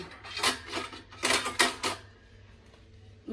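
Steel utensils clatter and clink while being washed in a Punjab village home, a few quick clustered bursts of metallic knocking followed by quiet.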